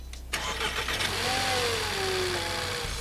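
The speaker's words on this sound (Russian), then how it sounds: "Запускаем двигатель, даем присадке пару минут распределиться по системе." A car engine cranks and fires up after an oil additive has been poured in, then settles into a steady running hum with a brief pitch sweep as it revs and idles.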